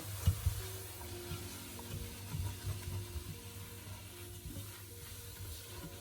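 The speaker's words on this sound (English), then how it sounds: "And now we're just stirring it more." A vegan pepper curry with soy sauce sizzles in a pan while being stirred, giving a moderate, steady frying hiss with soft scraping from the spoon.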